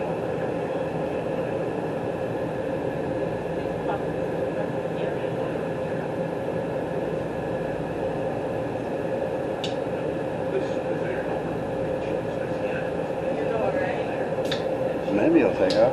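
Steady, droning rumble of a Las Vegas Monorail train running along its track, a continuous mid-level hum with faint metallic squeals near the end, a voice speaking over it.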